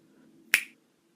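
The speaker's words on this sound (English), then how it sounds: "And if I snap my fingers," One crisp finger snap rings out close and sharp midway, with a faint room hum before it and silence after.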